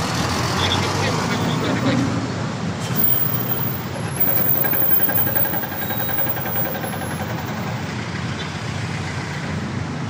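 Rush-hour road traffic with trucks and buses near a road rehabilitation site in Dolores, a dense steady roar of engines and idling vehicles close by with a brief hiss like an air brake.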